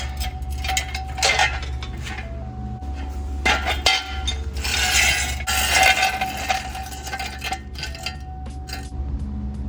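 Metal jack stands grabbed and handled in a garage during alternator work on an S13, loud close clanks and clinks in scattered bursts over steady background noise, no talking.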